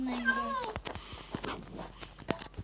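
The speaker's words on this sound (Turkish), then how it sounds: "Bu kimin kedisi?" A cat meows briefly at the start in a video game, followed by clattering game sounds and background noise with people talking.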